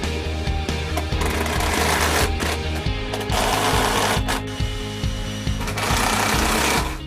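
A power drill drives screws into a glued wood joint on a box joint jig, giving a close, loud whirring buzz in repeated bursts that shift pitch partway through.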